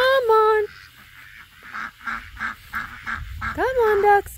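Ducks quack in short nasal bursts, with a few loud calls at the start and end and softer chatter between, fairly close.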